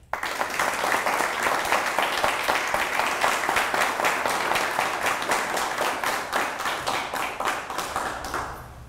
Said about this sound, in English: Everyone, please join me in a round of applause to recognize their leadership.